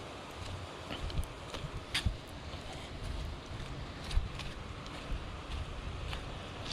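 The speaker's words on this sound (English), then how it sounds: "Now when we get down to this beach here, it's very windy today. It's like extremely windy." Strong wind buffets the microphone in gusty, rumbling blasts on Playa Buena beach in Costa Rica, with occasional louder gusts and a constant roar underneath.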